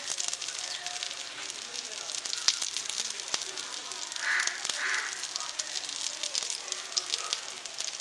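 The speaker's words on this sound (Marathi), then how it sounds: "हे आपण रवा लावून फ्राय करून घेऊया." Semolina-coated green pea patties shallow-fry in a pan until browned, giving a steady, soft, close sizzling hiss that continues evenly throughout with no voices.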